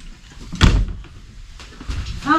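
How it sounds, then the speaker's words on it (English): Camper bathroom door swinging open and shut, a solid thump followed by softer knocks and latch rattles, close by, with a voice briefly speaking at the end. "Darn door goes out the bathroom."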